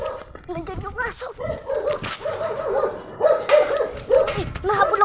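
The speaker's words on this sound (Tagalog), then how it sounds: "Nandiyan yung aso." A dog barks in short repeated bursts, fairly close, over people talking.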